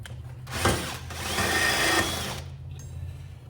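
A power drill boring a hole in a part for a 1940 Chevrolet 4WD conversion, a close, loud whine that builds and holds for about two seconds, then winds down into a low motor hum.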